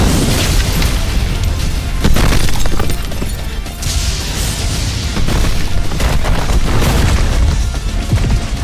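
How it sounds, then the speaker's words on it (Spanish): A golden throne shakes and releases a massive shockwave of invisible force: dense, continuous, loud rumbling with repeated deep booms and crashing bursts, alone with no voice. "Con un repentino estruendo, el trono dorado se estremeció y emitió una potente onda expansiva de fuerza invisible."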